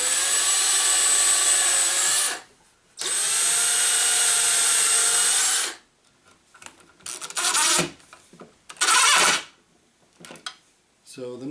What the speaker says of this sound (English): So what I'm doing is just kind of pre-drilling or marking the hole, and take it back off and drill them